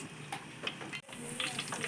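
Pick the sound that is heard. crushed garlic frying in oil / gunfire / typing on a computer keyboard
crushed garlic frying in oil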